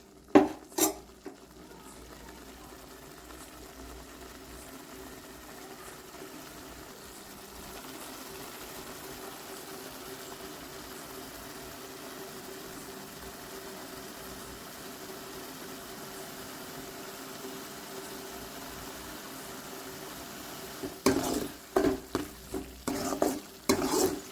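Onions and tomatoes are sautéed and stirred in a pan for a mushroom gravy, with a steady soft sizzle under a spoon scraping the pan, and louder clattering stirs near the start and toward the end.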